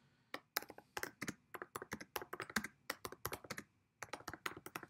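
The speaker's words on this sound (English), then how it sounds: "So I'm going to just type in a little something." Keys clack on a computer keyboard in quick, irregular bursts of close, crisp taps, pausing briefly before a final run of keystrokes, with no talk.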